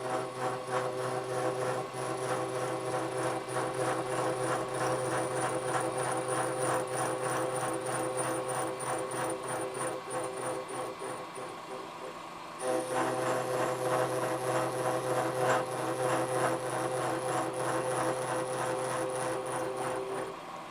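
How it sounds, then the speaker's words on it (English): Slitting saw cutting brass on a machine at about 140 RPM, a steady close mechanical whir with a rhythmic, even grind that runs continuously, briefly dipping near the middle before resuming at the same pitch. "I tend to run these slitting saws fairly low RPM."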